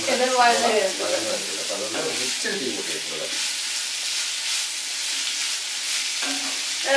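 Potato and cabbage sautéing in a pan while being stirred, a steady close sizzle with scraping stir strokes, busier at the start and then settling into an even fry.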